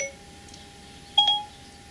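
A phone's voice assistant chime as a timer is set, a brief clear electronic double tone over a steady faint hum in a home brewing setting.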